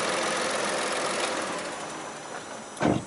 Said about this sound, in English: I'm just going to turn the engine off